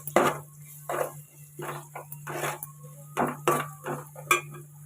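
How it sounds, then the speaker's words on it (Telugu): A spoon stirs turmeric and ginger garlic paste in a pan for an okra curry, making about eight distinct scraping strokes in a steady rhythm, close and clear over a low hum. "వేసుకొని ఒకసారి కలుపుకోవాలి."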